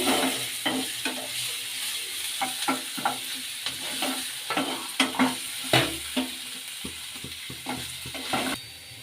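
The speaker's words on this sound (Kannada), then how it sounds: "ಶುಂಠಿ, ಬೆಳ್ಳುಳ್ಳಿ, ಕರಿಬೇವಿನ ಸೊಪ್ಪು ಕೂಡ ಹಾಕೊಳ್ಳೋಣ. ಈಗ ಫ್ರೈ ಮಾಡೋಣ." Ginger, garlic and curry leaves fry in a pan with a crackling sizzle, broken by frequent clattering stirs of a spatula against the pan, close and fairly loud.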